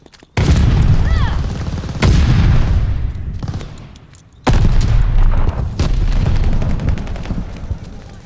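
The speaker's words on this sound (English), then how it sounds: "Stun grenade out." In Call of Duty Vanguard, a stun grenade explodes amid gunfire: heavy booming blasts with sharp shots, loud and close, repeating over several seconds.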